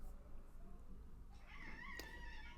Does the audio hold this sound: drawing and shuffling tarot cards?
no